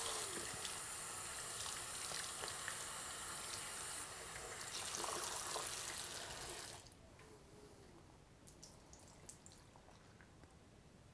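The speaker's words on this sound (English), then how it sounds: "So I'm just going to rinse it out with warm water." Warm water runs from a faucet over hair extensions being rinsed in a sink, a steady splashing flow for several seconds that then cuts to quieter trickling and drips.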